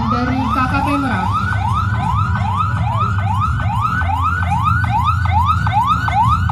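A loud ambulance siren wails in a rapid, repeating yelp pattern close by, continuous over a low rumble of engine and traffic noise, during an earthquake and tsunami drill at Merak port.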